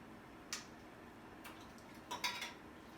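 Canning jar lid and screw ring handled while home pressure canning chicken: a few light metallic clicks and clinks, one near the start and a small cluster near the end, over steady low background noise.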